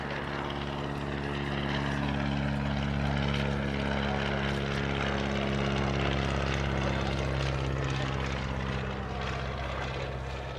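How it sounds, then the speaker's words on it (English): A Focke-Wulf Fw 44 Stieglitz biplane flies an airshow display overhead, its propeller engine droning steadily with a deep, buzzing tone that swells slightly in loudness as it pulls through the manoeuvre. "this is Tobias Ruppel in the Focke-Wulf"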